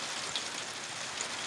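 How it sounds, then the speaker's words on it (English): Steady rain falls outdoors during a canoe trip under a dark cloud, a soft continuous hiss with a few faint scattered drops standing out, and no talking. "You can hear it raining."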